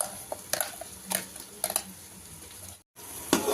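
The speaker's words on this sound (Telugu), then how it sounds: "ఇది మనం ఇలా ఫ్రై చేసుకున్నాం" Soft sizzling in a pan broken by several scraping, stirring clatters of a spoon against metal, with a short gap near the end.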